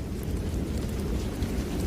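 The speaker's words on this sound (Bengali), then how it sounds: "চারিপাশে বিদ্যুৎ চমকাচ্ছে, সঙ্গে ঝোড়ো হাওয়া আর টিপটিপ বৃষ্টি।" A cartoon thunderstorm with lightning, gusty wind and drizzle rumbles as a steady, dense low roar under a soft hiss of rain, unbroken, with no voices.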